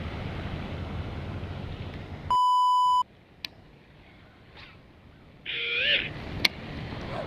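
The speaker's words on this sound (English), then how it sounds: "Nobody cursed, that's just a text message." A phone's text message alert sounds once as a steady electronic beep lasting under a second, followed by brief chirpy tones against a windy outdoor background.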